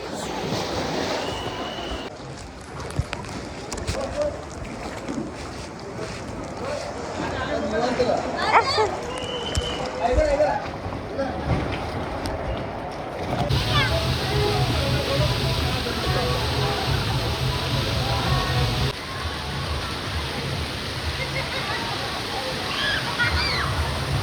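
Wave pool waves at Wet N Joy water park surge and slosh in a steady rushing roar, loud and continuous, with a crowd and voices in the background.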